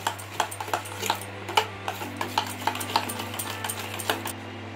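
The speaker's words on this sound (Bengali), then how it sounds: "আমি ভালো করে চিনিটাকে এরকমভাবে গুলে নেব।" A spoon stirs sugar into strained curd in a bowl, ticking and clinking against the sides in a quick, steady rhythm over a constant low hum.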